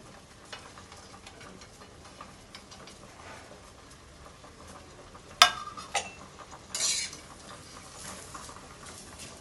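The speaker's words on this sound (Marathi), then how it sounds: "सगळ्यात आधी आपण खोबरं भाजून घेऊया" Coconut dry roasting in a hot pan for misal rassa makes a quiet, soft patter and scraping of stirring, with a sharp clatter midway and a brief brighter rustle after; no speech.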